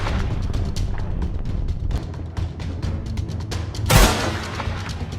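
A single sharp rifle shot fired at a caribou from about 45 yards away during a stalk. It cracks out once against steady outdoor wind noise, and the boom fades quickly.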